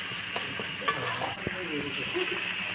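Freshly grated ginger and river snails fry in an iron wok over a wood-fired clay stove in a village kitchen, with a soft, steady sizzle, a few sharp clinks of a spatula and faint voices in the background.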